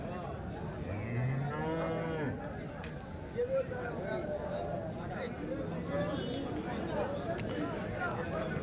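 Yearling calves at the Sunday cattle market in Chintamani moo repeatedly, some calls near and loud, others farther off, over a steady crowd murmur with voices around.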